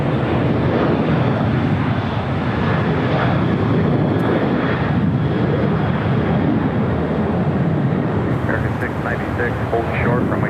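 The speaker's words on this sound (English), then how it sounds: "Norris flight 311 Kevin coming in from Paris, 787-9 Dreamliner" A Boeing 787-9 Dreamliner arriving from Paris at LAX roars with a loud, steady broadband jet rumble that fills the whole stretch, with a voice partly masked beneath it.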